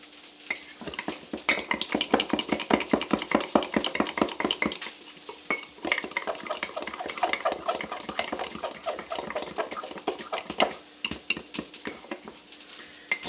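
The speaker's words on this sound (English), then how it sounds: "we're just going to mix all this together in the cup. And you want to make sure you scrape down the sides" Rapid, light metallic clinking of a utensil whisking eggs in a cup, with fast rhythmic strokes that pause, resume and turn to scraping against the sides, fairly faint and close.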